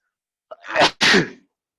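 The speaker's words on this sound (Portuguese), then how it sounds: "Espirrada boa." A single loud, close human sneeze: a short intake catch, then two sharp explosive bursts in quick succession, followed by silence.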